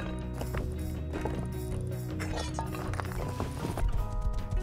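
Horse hooves clip-clop in the survival game Rust, a steady galloping rhythm mixed under dense game music and ambient layers throughout.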